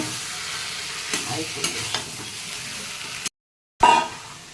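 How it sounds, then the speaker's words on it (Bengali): Crab curry masala sautéed and stirred in a pan: a steady close sizzle with spoon scrapes and a few sharp knocks, cut by a brief silence before the frying returns louder. "ভালো করে কষিয়ে নিচ্ছি"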